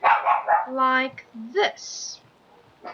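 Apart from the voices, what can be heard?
dog barking in the background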